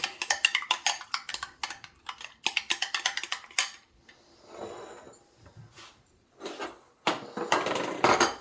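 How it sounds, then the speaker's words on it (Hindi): Eggs seasoned with a pinch of salt and black pepper are whisked by hand in a bowl, giving rapid, close clinking taps in quick bursts with short pauses between them. "अंडे को अच्छी तरह से फेंट लूँगी"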